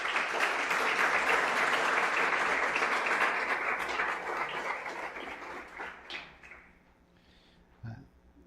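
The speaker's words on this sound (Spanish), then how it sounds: "Den un aplauso al Señor." A church congregation gives a long round of applause. It starts dense and loud, then fades over several seconds into scattered claps and a few faint knocks before quiet.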